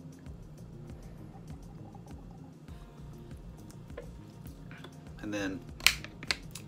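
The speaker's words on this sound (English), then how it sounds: "the lid snaps on, so that is supposed to keep this fresh" A plastic lid snaps onto a Bottle Top drinking cap for a bottle, giving two sharp, close clicks near the end after quiet handling rustles in a hushed room.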